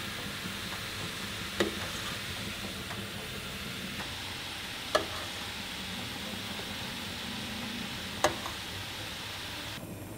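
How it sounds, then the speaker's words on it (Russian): Split peas simmering in a pot, a soft continuous bubbling hiss held low and steady, broken by three brief sharp clinks a few seconds apart, with no talking. "Горох закипел, пенка снята, накрываем крышкой и пускай кипит минут 20-30 до готовности гороха."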